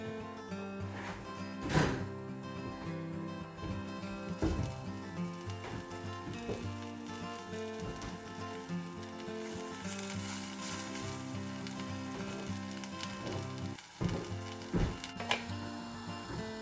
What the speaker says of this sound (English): we're going to get our bread in our pan and get that nice and crispy